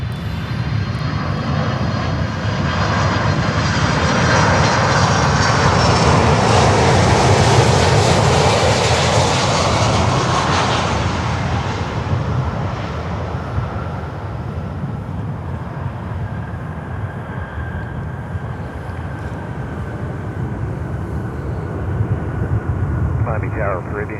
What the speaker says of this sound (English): Passenger aircraft 767-300 coming in from Lima.